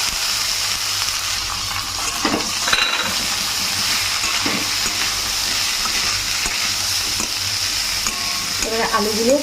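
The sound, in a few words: boiled potatoes frying and being stirred in a pan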